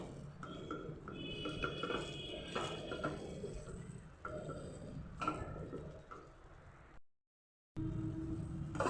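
Metal utensil scraping and clinking against a wok as a thick carrot and chhena sandesh mixture is stirred, irregular taps and scrapes, then a brief silence.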